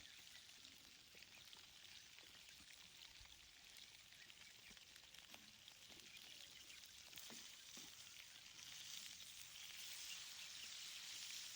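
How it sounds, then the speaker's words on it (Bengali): Fish frying in hot oil on a stove turned up to high heat, giving a steady, continuous sizzle and crackle with occasional sharper pops, close and fairly even throughout, with no talking. "যেন মাছটা তাড়াতাড়ি ভাজা হয়ে যায়"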